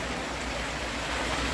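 Water clattering around in a small pond, a dense, steady splashing and rushing wash that holds at an even level, close and fairly loud, with no voices.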